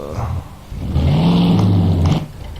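A car engine revs up and holds a rising, roaring note in Mafia 2, loud and close, then drops away after about two seconds.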